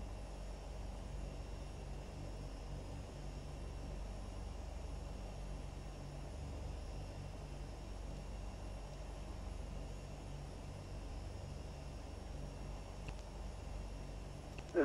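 An airplane taxis on runway 30 at Toulouse Blagnac, its engines making a steady, continuous drone with a low rumble that holds at an even level throughout, with no voices.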